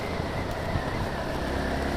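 A 2013 Yamaha MT-03 motorcycle engine runs steadily at close range, a continuous low rumble with a dense, even drone and no break in level, heard on its own with no talking.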